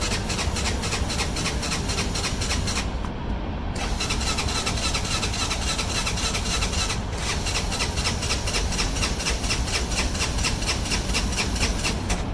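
An ATV engine cold-starting in 39°F weather, with a broken choke worked by pulling the cable directly. It runs loud and steady for the whole stretch, with a rough, rapidly pulsing idle and two brief dips in the upper range.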